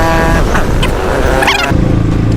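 A Honda CRF 450 dirt bike engine runs loud and close throughout, a steady rumbling drone with a brief shift in tone near the end.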